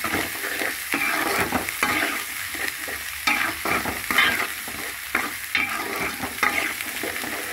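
Onions frying in a pan with ginger-garlic paste just added, stirred steadily with a spatula; a constant close sizzle runs throughout, punctuated by repeated scraping strokes against the pan, with no one talking.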